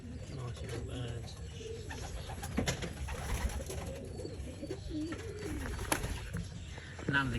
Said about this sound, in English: Nice little birds.